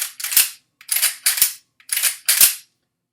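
Five sharp metallic strokes of a C39-V2 rifle's charging handle being racked, each a quick scrape ending in a hard clack, spaced roughly half a second apart, close and clear with no talking.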